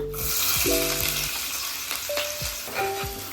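Thinly sliced onion sizzling in about three ladles of hot oil, with a steady bright fry and a few clinks of a spoon against the pan.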